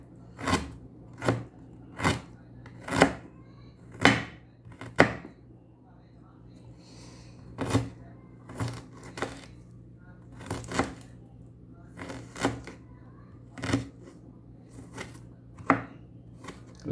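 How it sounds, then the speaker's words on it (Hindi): A knife finely chopping ginger on a board, sharp close chops in uneven bursts and single strikes with short pauses between, while a voice talks faintly in the background. "अदरक भी कर लेते हैं। अदरक को भी बारीक बारीक।"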